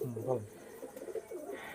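Pet pigeons kept for sale give a soft, brief coo close by at the start, with faint rustling afterward and quiet room noise.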